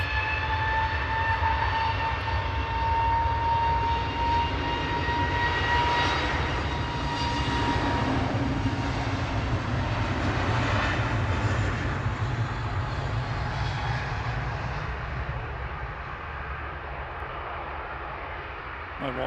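An EasyJet jet departing Manchester Airport for Krakow roars with a loud sustained engine rumble and whine that builds and slowly fades as it climbs away, with people talking faintly nearby.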